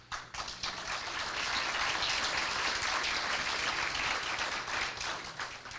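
A school assembly audience applauds, a steady, dense wash of many hands clapping that holds evenly for several seconds before tapering off.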